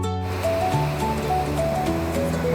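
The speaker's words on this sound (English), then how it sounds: "The beach had fine sand with gentle waves hitting the shore." Gentle waves wash onto a fine-sand beach at Coral Beach in Chumphon, Thailand, a steady soft surf hiss running throughout with a faint low tonal drone beneath.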